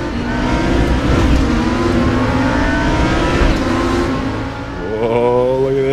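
GT2 race car engine in the RaceRoom racing game, loud and close, droning steadily at high revs, then dropping and climbing back through a gear change near the end.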